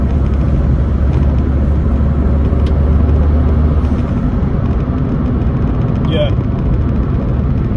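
A Ford Fiesta Mk6 drives along after a clutch change, its engine and road noise forming a loud, steady rumble heard from inside the cabin while someone talks over it.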